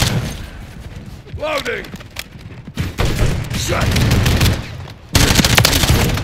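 Video game gunfire cracks in short bursts and scattered shots, loud and close, mixed with thuds and game effects while a player talks over the action.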